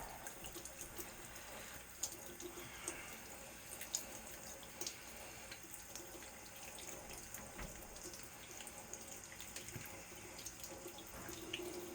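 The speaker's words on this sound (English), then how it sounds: "Just go ahead and turn on your sink." Water runs from a sink faucet with its aerator removed, a soft continuous splashing into the basin with occasional sharper drips and clinks, fairly quiet and unaccompanied by talk.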